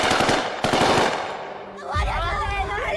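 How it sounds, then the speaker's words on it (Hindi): Machine-gun fire sound effect depicting security forces firing on protesters: a rapid, loud burst of automatic shots that fades out and gives way to a low rumbling tail. "मगर सिक्योरिटी फोर्सेस ने इन प्रोटेस्टर्स पर फायरिंग कर दी।"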